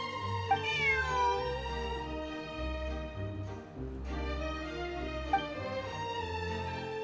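A cat meows in a video game, a drawn-out wavering meow rising and falling over continuous background music, with a second meow later and no one speaking.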